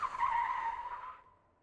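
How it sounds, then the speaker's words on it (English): Tyres on a Citroen Ami screech in a short skid during a handbrake turn, a close, bright squeal that holds for about a second and then fades out, with no one talking. "plenty of handbrake turn practice"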